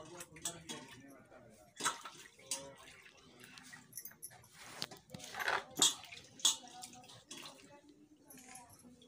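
Brinjals being washed by hand in water in a home kitchen, with faint splashing, sloshing and clattering in uneven bursts, quiet and close.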